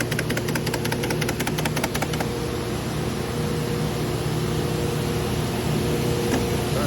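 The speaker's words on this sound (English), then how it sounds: "That's going to cause some pretty violent shaking of the compressor" Refrigerated air dryer compressor running while shaking violently, a loud continuous droning hum with a rattling knock, steady and close for the whole stretch.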